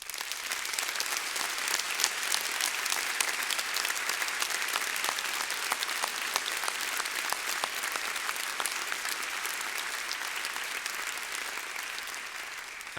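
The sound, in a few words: audience applause at graduation ceremony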